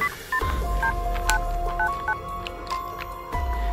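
A phone keypad dials a number with a quick run of distinct DTMF beeps, irregularly spaced over a few seconds, loud and close, with light handling noise underneath and no speech.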